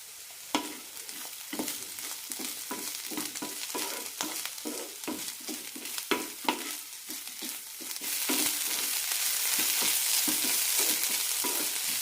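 Bitter gourd pieces stir-fry in a pan for a Kerala pavakka upperi, with a spatula scraping and tapping in a quick irregular rhythm over a soft sizzle that grows louder and steadier toward the end.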